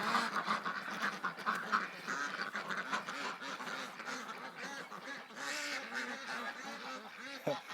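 A flock of ducks quacks continuously and close by in a barn or yard, with overlapping honking calls throughout and occasional faint human sounds mixed in.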